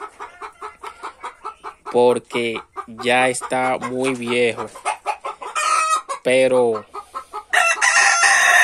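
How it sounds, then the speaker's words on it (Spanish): An old farmyard rooster crows loudly and close by in several drawn-out calls, mixed with sharp clucks and other fowl noises, while someone speaks Spanish between and over the calls. "el gallo joven, miren, este gallo, yo lo voy a sacar y voy a dejar a aquel que es el hijo"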